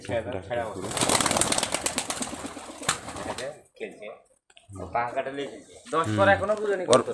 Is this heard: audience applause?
no